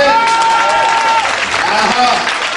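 A church congregation breaks into loud, sustained applause that fills the room, a dense wash of clapping heard close up, with voices calling out over it.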